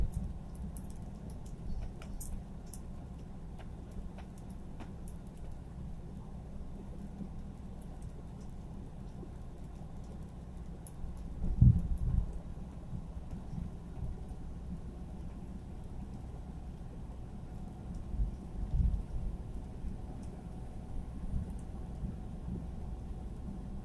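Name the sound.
rain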